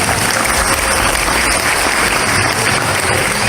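Sustained audience applause from a crowd at a religious lecture, dense and steady throughout without pause.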